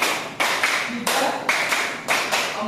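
A class of fifth-grade elementary pupils claps hands together in a classroom, a series of about five sharp, loud, slightly ragged group claps in a steady counted rhythm, each a crisp burst with a short roomy tail.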